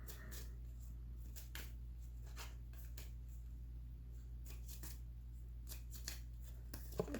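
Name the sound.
shuffling a small tarot card deck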